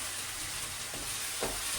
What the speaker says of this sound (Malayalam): വഴറ്റുക